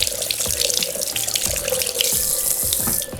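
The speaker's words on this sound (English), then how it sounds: "but first I'm gonna wash my hands" Hands being washed under a running kitchen sink tap, a steady close rush of water with splashing and dripping throughout.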